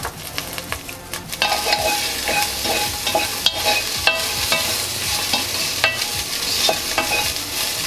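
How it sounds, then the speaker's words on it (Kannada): Salted cauliflower fries crisp in a pan while being stirred, giving a loud, close, continuous sizzle broken by repeated scraping strokes of the spoon. No one speaks. "ಚೆನ್ನಾಗಿ ಫ್ರೈ ಮಾಡ್ಕೊಳ್ಳಿ."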